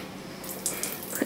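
Water runs from a newly installed kitchen tap, switching on partway through as a steady splashing flow with a few brief louder spurts, close by and fairly quiet.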